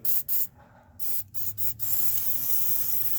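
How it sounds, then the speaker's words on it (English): Liquid Muscle penetrating lubricant sprays onto bolts on a 1955 Dodge in short bursts, two quick hisses followed by several brief spritzes and then a longer sustained hiss, close and fairly quiet. "So let's spray some liquid muscle."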